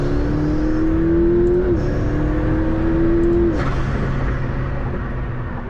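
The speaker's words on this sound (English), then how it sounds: "on liftoff, you hear the blow-off of the turbo noises that this car makes" A McLaren turbocharged sports car engine roars loud and close, its tone climbing steadily, dropping briefly at a shift and climbing again before easing off.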